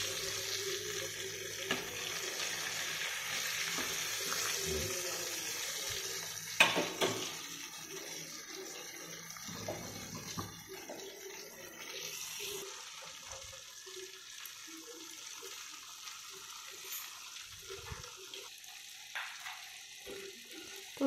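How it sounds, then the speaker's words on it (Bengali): Chicken pieces frying in hot oil fizz and crackle with a watery hiss, louder at first and then thinning into sparse pops and sizzles, with a few clatters of turning and no talking. "এইভাবে উল্টে পাল্টে ভেজে নিতে হবে।"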